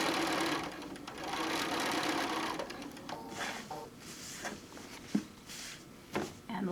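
Close, continuous whirring of a sewing machine stitching around the corner of an envelope-back pillow with piping, steady at first and then broken by a few short pauses and light clicks.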